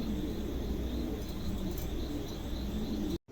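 White King pigeons coo softly amid continuous low chirps and background noise, a faint steady murmur of birds with no voices, cutting off abruptly at the end.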